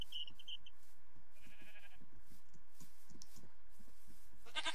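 Goats in the Minecraft video game bleat in short, wavering calls that repeat against a low, steady game background with faint rhythmic thuds, closing on one louder bleat.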